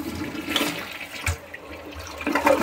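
A hotel bathroom toilet at a beach resort flushes in a rushing, gurgling surge of water with a few swells and dips, fairly close and moderately loud, with no talking.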